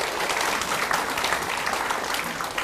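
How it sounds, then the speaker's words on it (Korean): A church congregation applauds during a Sunday morning service, a steady, even wash of many hands clapping at moderate volume, heard alone without any voice over it. "우리 하나님께 감사의 박수를 드리겠습니다."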